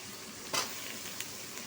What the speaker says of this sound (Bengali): এই যে আলু দিয়ে দেব, সম্পূর্ণ আলু আস্তে আস্তে করে দিয়ে দেব